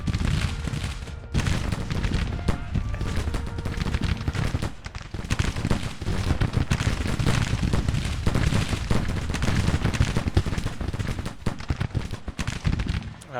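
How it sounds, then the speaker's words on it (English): Dense musket volleys and booming artillery from a Grand Tactician: The Civil War battle near Alexandria, a continuous loud crackle of gunfire layered with heavy cannon blasts throughout, with no talk. "Didn't realize they'd been shooting for that long."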